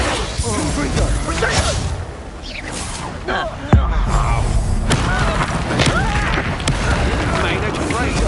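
Confringo fire spell blasts in the video game Hogwarts Legacy, a sharp booming impact cutting through dense battle noise, whooshes and thuds, with game voices heard throughout.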